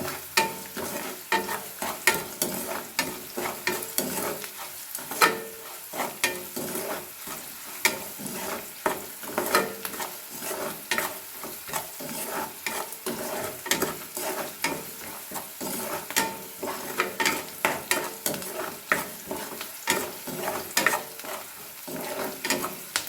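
Avalakki upma (poha) being stirred in a pan after salt goes in: a steady run of close scraping and clicking strokes over a low sizzle, continuing without pause and with no voices.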